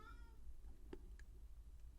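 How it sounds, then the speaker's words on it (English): Domestic cat letting out a short meow at the start, close but soft, followed by a couple of faint chirpy sounds over a low background hum. "please allow me to excuse that cat to you on her behalf for being so psychotic"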